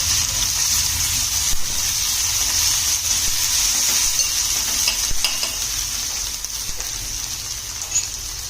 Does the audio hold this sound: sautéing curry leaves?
yes